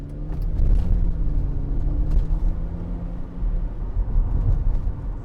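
A 2006 Mercedes-Benz SLK280, its 3.0-litre engine with 7G-Tronic gearbox, idling steadily with a low, even rumble that holds close and constant throughout.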